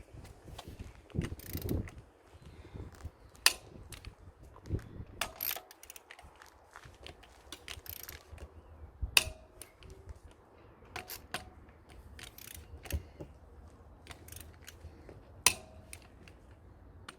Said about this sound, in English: torque wrench, check the torque side, 120. For tightening these things is across diagonally every time.